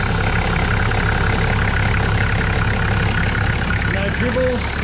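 A Toyota Land Cruiser with a turbocharged 1HZ diesel idling, a loud, steady low rumble close by, with a voice heard over it at times.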